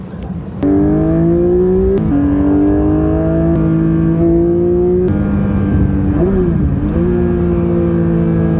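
A loud, close Porsche 911 S/T engine, redlining at 9,000 RPM, revs steadily upward in pitch, drops with each gear change, and climbs again, with a brief wobble near the end.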